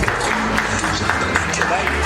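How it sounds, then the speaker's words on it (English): Dense, continuous applause from an audience at a film trailer launch event, loud and steady throughout with a busy hall murmur underneath. "Please give a round of applause."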